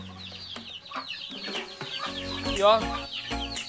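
Young backyard chickens cluck and peep in short bursts while being fed chick feed, close and lively, with someone speaking among them.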